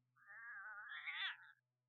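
A fussy cat lets out one long, drawn-out meow that rises and wavers for about a second and a half, fairly close and clear with no talking, then stops into silence.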